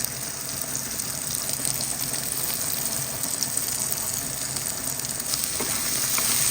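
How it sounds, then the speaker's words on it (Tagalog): Chopped garlic and onion sauté in hot oil in a pan for Filipino-style spaghetti, giving a steady, close, dense sizzle that holds an even level throughout with no talk. "Isusunod ko na ang ating bawang at ang ating sibuyas."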